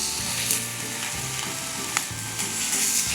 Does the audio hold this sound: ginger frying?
yes